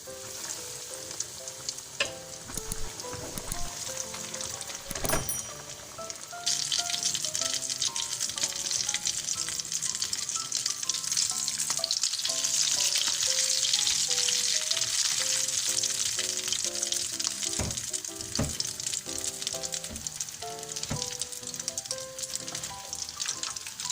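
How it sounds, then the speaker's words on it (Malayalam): Vegetable burger patty ingredients deep-fry in hot oil, a loud, continuous crackling sizzle with sharp pops and occasional clinks of stirring, close up and without talk. "ഇതുപോലെ നമുക്ക് എല്ലാം പൊരിച്ചെടുക്കാം."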